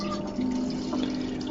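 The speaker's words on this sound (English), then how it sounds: "I'm going to go ahead and refill my water" Publix spring water pours steadily into a bottle being refilled, a close, continuous splashing rush with a faintly rising tone as the bottle fills, with no voices.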